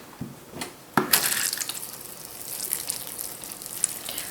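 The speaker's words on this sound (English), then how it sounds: "Let's water it in." Water poured over a freshly potted spider plant, a sudden splash followed by a steady soft trickling and hiss as the soil soaks it up, close and fairly quiet.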